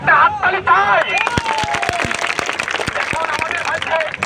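Clapping from a crowd at a street human chain protest in Agrabad: scattered, uneven hand claps rising after a voice over a loudspeaker, with murmuring people in the background.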